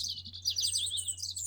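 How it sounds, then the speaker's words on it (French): Birds chirp and tweet in quick, high repeated phrases, faint and close, alone over a low steady hum. "Avec le chant des oiseaux."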